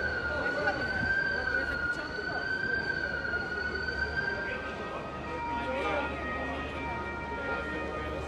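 A fire engine siren approaching a burning car in a street in Nocera Inferiore, a steady wailing two-tone call heard at moderate distance over traffic and street noise, with people talking nearby.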